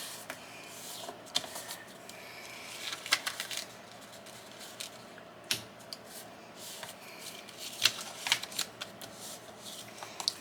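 Vintage paper postcards being folded by hand give off soft, continuous rustling and creasing with scattered small crisp snaps, close and fairly quiet, with no talking.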